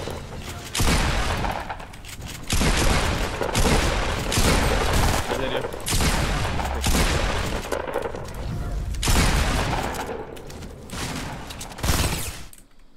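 Rapid bursts of Fortnite gunfire come in loud, dense volleys separated by brief pauses, close and relentless.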